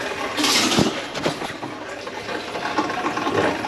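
Water rushes back through a repaired copper pipe after a burst that flooded a toilet area, a hissing, sputtering flow with a gurgling surge early on, then continuous splashy running close by.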